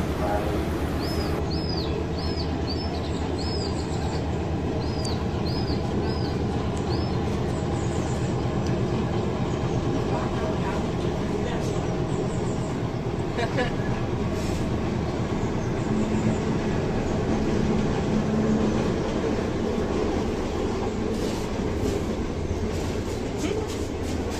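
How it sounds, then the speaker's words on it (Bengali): A train crosses a stone railway bridge near Ella in Sri Lanka's hill country, a steady loud rumble and rattle of wagons lasting throughout, with a few high bird chirps early on. "হঠাৎ থেকেই ঝমঝম শব্দে চলে এলো ট্রেন।"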